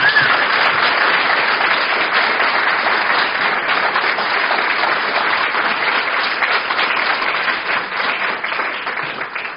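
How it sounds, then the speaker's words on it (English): Sustained, even applause from an audience at a speaker series event on homelessness, a dense wash of clapping hands filling the whole stretch at close range with no voices over it. "let's give them a proper round of applause"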